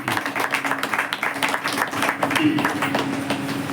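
A church congregation claps in a scattered, rapid burst of applause while a voice speaks over it.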